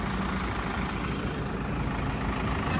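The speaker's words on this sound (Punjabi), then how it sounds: "ਟਰੈਕਟਰ ਦੀ ਆਵਾਜ਼ ਸੁਣੋ" A Sonalika 750 tractor engine runs steadily nearby, a low rumbling drone with a constant throb and no breaks.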